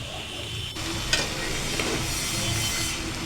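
Curry sautés in a pan with a constant close sizzle and occasional scraping stirs and light clinks, with no talking.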